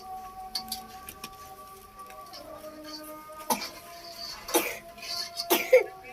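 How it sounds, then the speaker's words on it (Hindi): A child coughs several times in short bursts, fairly close, with quiet background noises and a faint tone in between. "खांसी हो रही है"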